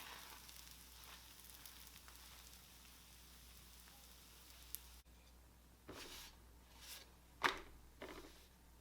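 Chorizo and egg seasoned with sea salt and black pepper cook in a covered pan over medium heat, giving a faint, steady sizzle and hiss with a few brief louder crackles toward the end and no talking.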